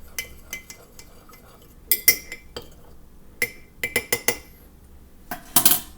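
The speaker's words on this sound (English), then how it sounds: "and then we're going to mix it around." Baking soda is stirred into water in a bottle while making a homemade lava lamp, with scattered metallic clinks and taps of a utensil against the container, clustering near the end, over quiet room tone.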